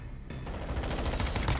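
Rapid gunfire from the RAM 7 assault rifle in a first-person shooter game, a dense continuous burst of shots that starts abruptly and carries on at a steady, moderate level.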